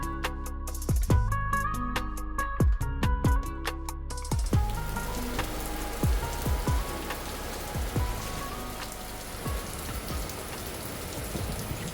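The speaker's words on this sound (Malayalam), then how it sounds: "അപ്പോൾ പുറത്ത് നല്ല മഴയാണ് കേട്ടോ." Heavy rain pours down outside in a steady, dense hiss of drops on surfaces, preceded by a few seconds of tonal plinks and clicks, with no one speaking.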